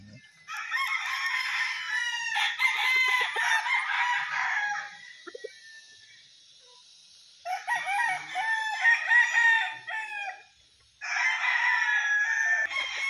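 Roosters crow at a gamefarm chicken coop on Mt. Banahaw in Dolores, Quezon. Several long, loud, nearby crows overlap and follow one another with short gaps between them.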